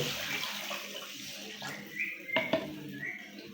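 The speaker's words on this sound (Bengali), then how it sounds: "আমরা এখন পরিমাণ মতন ঝোলের পানি দিয়ে দেব" Water poured into a pot of tilapia, sarpunti fish and potato curry, a soft splashing pour with a couple of brief louder splashes near the end, heard up close and alone.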